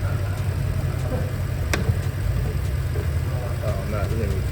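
A BMW M3 engine runs steadily while warming up, a close low drone with a brief sharp click partway through, with people talking over it.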